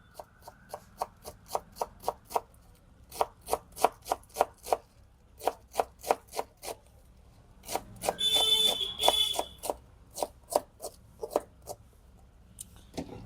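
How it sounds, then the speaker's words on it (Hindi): A knife cuts vegetables into long strips on a board for chowmein, sounding as quick rhythmic chops in bursts of evenly spaced, sharp knocks, close and loud, with a brief scraping rasp in the middle. "इसको हम लोग लंबा लंबा कटिंग करेंगे।"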